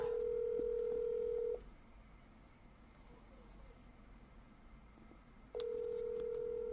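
Steady telephone tone sounding over a car interior hum, clear and fairly loud, breaking off for about four seconds and then returning, with faint background noise and no speech in the gap.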